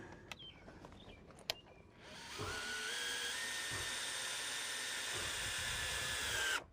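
A power drill drives screws down into floor joists, a rising whine that holds for several seconds after a few faint knocks, then cuts off.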